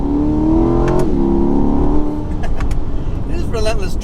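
A Chevrolet Corvette C8 Stingray Z51 climbs a hill with a steady engine drone heard from inside the cabin, while a person talks over it throughout.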